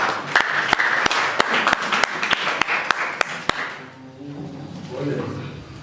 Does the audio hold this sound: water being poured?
no